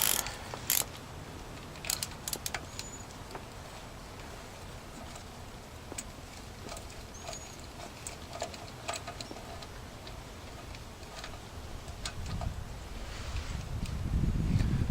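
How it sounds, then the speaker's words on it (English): A 9/16 wrench working loose a starter bolt on a Ford tractor: close, sharp ratcheting clicks and metallic ticks repeated irregularly over a low steady background, with a rustling scrape toward the end. "See, I got a shorter 9/16, and it'll fit on there too. See if we can break it loose"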